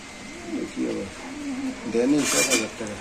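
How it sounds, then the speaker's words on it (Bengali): Black Danish pigeon cooing close by in soft rolling calls, with someone speaking over and around it at a pigeon sale. "এটা হলো কালো ডেনিশ কবুতর"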